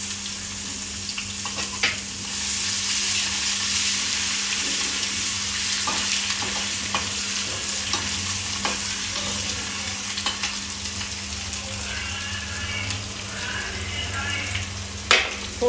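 Ginger garlic paste hits hot oil with whole spices like cinnamon and cloves for a veg biryani, a steady close sizzle and frying hiss with occasional stirring clatter, no talk.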